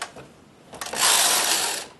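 A knitting machine carriage sliding across the needle bed while knitting rows, a short rattle and click followed by a loud sustained mechanical whir of about a second, close by and without speech.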